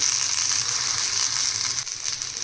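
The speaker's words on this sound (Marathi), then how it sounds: "असं केल्यामुळं काय होतं की तो छान असा सर्व बाजूने तो छान फ्राय होतो" Pomfret fish coated in a mint and coconut paste frying in a pan, giving a loud, steady close sizzle that runs unbroken and alone.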